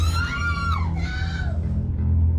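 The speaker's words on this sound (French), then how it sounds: "Elle hurle." A woman screams during an armed robbery at a grocery store, a loud high wavering cry over a low, steady hum that fades out after about a second and a half.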